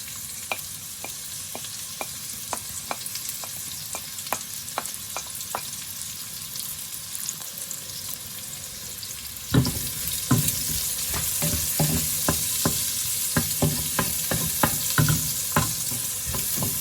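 Onions sauté in hot frying oil for Kapampangan chicken asado, a continuous sizzle punctuated by regular spoon scrapes and taps, growing louder and busier partway through as more stirring clatters in, with no talking.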